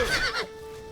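A horse in Oblivion gives a single sharp, close neigh that quavers briefly before cutting off, followed by a quiet lingering tone.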